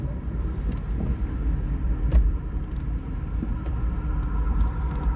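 Daihatsu Copen 1.3 16v convertible engine idling at about 750 RPM, a steady low rumble heard from the cabin, quiet and even throughout with no voices.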